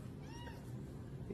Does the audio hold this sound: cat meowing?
yes